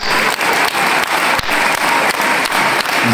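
A stadium crowd at a football match between SV Sandhausen and St. Pauli applauds loudly and continuously, a dense roar of clapping that fills the whole stretch without letup.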